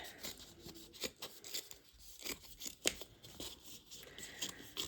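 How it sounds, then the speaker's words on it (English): Small fabric scissors snip excess material off a polystyrene bauble, with a quiet, close series of short crisp cuts and rasping rubs at an irregular rhythm. "getting a small pair of fabric scissors, I'm just going to cut off the excess material and up each side"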